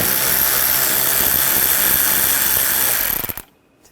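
A power tool fitted with a T20 socket spins screws out of the inner wheel well of a 2013-2022 Buick Encore 1.4L, a loud steady whir running about three seconds before cutting off abruptly.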